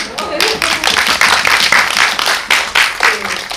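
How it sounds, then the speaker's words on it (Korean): An audience at a film premiere screening and talk session in a cinema bursts into applause, many hands clapping in a lively, uneven rhythm that holds strong throughout, with no talk heard. "박수 먼저 치자."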